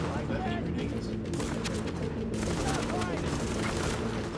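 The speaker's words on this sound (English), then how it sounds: "Oh shit, someone's shooting." Sustained gunfire in the video game Tom Clancy's The Division, dense overlapping bursts of shots running loud and continuous throughout, with a voice talking over the shooting.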